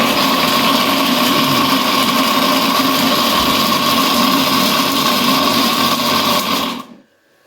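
A kitchen blender whirs steadily while blending a falsa fruit shake, a loud continuous motor drone that runs unbroken for nearly seven seconds before cutting off abruptly into silence.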